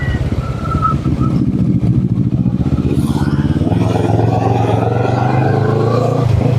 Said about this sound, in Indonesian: Nah coba saya dengarkan suara motornya.